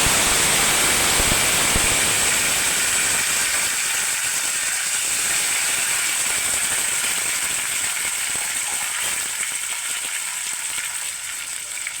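Chopped tomato drops into hot oil with bay leaf in a pan while pointed gourd dolma is cooked, a loud, continuous close sizzle that slowly eases.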